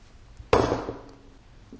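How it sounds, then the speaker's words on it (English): A single sharp metallic click as the firing pin retaining pin is pushed into an AR-15 bolt carrier, close and distinct, followed by a short fading ring and a faint second tap at the end. "the last step is to put in the firing pin retaining pin. That fits in that hole right there."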